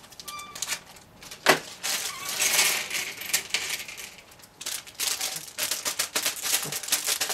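A LEGO plastic polybag for set 30282 is cut open, giving light crinkling, snipping and rustling plastic sounds that come close and fairly quietly in irregular bursts, with no talking.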